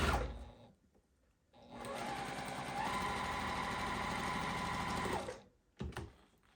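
Sewing machine stitches a partial quilt seam in one continuous run of about four seconds, a fast steady mechanical whir with short quiet handling gaps before and after.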